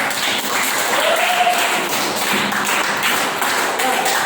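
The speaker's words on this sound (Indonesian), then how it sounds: "Tepuk tangan buat saya." Clapping from a group during an Islamic religious lesson on qurban, a steady patter of hand claps with some tapping and thuddy hits, fairly loud and continuous.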